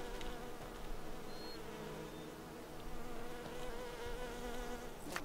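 Bees buzz steadily and close by in the video game Skyrim, a continuous droning hum with slight wavering pitch and no voices.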